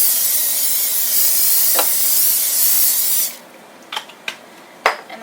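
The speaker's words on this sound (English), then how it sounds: "I'm going to spray the top really quick." Cooking spray hisses in one steady, close burst over the top of fajita-seasoned burrito filling, then cuts off, leaving a few light clicks and taps in a quiet room.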